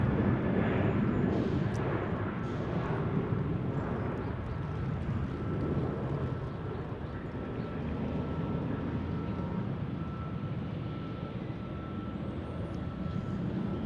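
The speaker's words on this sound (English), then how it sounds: "American 2065 on an A321, headed back to DFW." An American Airlines A321 jet taking off from runway 34 right at Salt Lake City airport, with a loud rumbling engine roar that starts strong and stays steady, slowly easing over the span.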